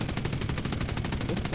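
An aircraft machine gun fires in the War Thunder video game, a fast, even burst of rapid shots heard fairly faintly throughout.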